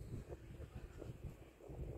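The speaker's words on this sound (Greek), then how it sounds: "Φυσάει ο αέρας σήμερα" Wind blows outdoors in Bulgaria where zander is being smoked, a faint, steady low rumble buffeting the microphone with no talking.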